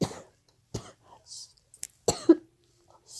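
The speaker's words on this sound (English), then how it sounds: "excuse the coughing because of this dry air" Three or four sharp coughs spaced apart, close and fairly loud, with brief silences between them and faint background noise.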